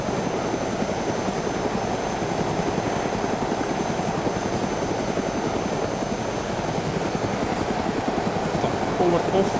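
A helicopter in the DayZ video game drones steadily with a loud, continuous rotor and engine roar that holds unchanged throughout, with no voices heard over it.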